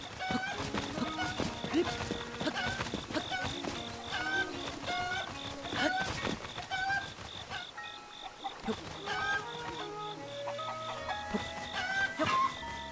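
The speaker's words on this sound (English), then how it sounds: "You can actually fly with a rooster." A rooster in The Legend of Zelda: Breath of the Wild clucks in short repeated bursts over game ambience and music tones, fairly close and moderately loud.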